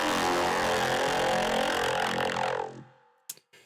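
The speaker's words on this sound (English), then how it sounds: "there's also a vocoder that's triggering this" A vocoded synth sound played alone: a dense, buzzing, harmonically rich tone that holds steady and then fades out, followed by two short clicks at the end.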